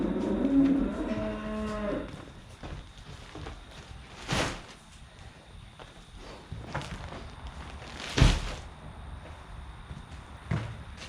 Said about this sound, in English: Cows are getting hungry.